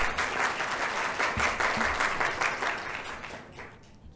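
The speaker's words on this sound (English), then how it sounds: "can I have a big round of applause for our speaker once again?" Audience applause for a speaker at the close of a conference session on innovation, a steady wash of many hands clapping that fades out over the last second.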